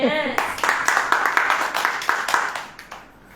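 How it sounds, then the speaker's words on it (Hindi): A church congregation claps together at a Hindi-language sermon, a burst of many hands striking in a quick, steady rhythm that fades out, with a voice briefly audible at the start. "आनंद ताली हो जाए"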